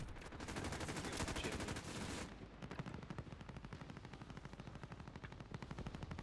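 Rapid automatic gunfire in the video game Warzone, a dense continuous burst for about two seconds that shifts into a steadier, slightly lighter stream of evenly spaced shots. It runs loud and unbroken to the end with no talking.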